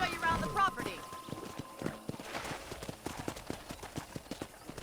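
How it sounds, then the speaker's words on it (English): Horse hooves clip-clop in a steady, quickening rhythm in the video game Red Dead Redemption, close and moderately loud, with brief speech at the start. "let's see if you can still ride a horse"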